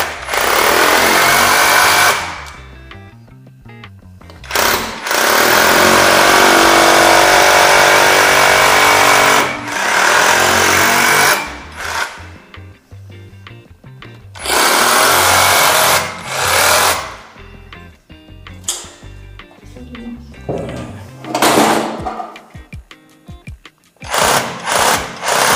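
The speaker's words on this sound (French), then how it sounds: "Et on va faire 4 trous dans de la pierre." A Parkside PKHAP 20-Li B2 cordless 20V rotary hammer drills holes in stone, hammering loudly and close in several long bursts separated by short pauses, with no talking.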